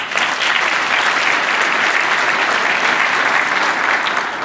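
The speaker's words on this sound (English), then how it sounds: "Can we give them a round of applause?" Loud, sustained applause from a luncheon audience fills the whole stretch, a dense continuous wash of clapping hands at an even level with no voices standing out.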